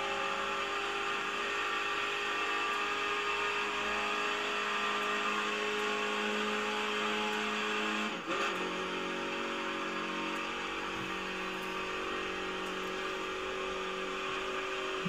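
A Mini Cooper S engine in The Crew 2 racing game drones steadily under acceleration, a sustained buzzing rev with a brief dip around the middle, moderately loud and without speech.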